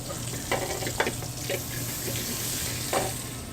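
Shallots go into a hot pan for a spicy seafood arrabbiata with shrimp and scallops, giving a steady, moderate sizzle with a few brief clatters and splashes on top, and no talking.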